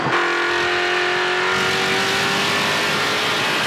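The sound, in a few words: onboard NASCAR Pinty's Series race car engine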